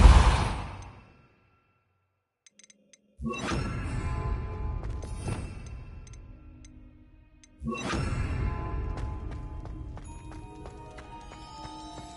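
The Depulso spell in Hogwarts Legacy fires in sharp, forceful bursts, three distinct blasts, each followed by a ringing, fading tail, with no talk over them.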